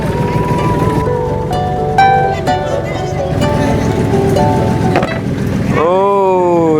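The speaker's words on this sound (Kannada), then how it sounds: "ಯಾವುದೋ ಪಕ್ಕದಲ್ಲಿ ಇನ್ನೊಂದು ಫೆರಿ ಬಂತು, ನಮ್ಮ ಬೋಟ್ ಗುದ್ದೇ ಬಿಡ್ತಲ್ಲ." Ferry crossing the open sea to Nainativu Island, Sri Lanka, with a steady engine drone and wind rushing over the deck, ending in a rising horn-like tone; people talk faintly in the background.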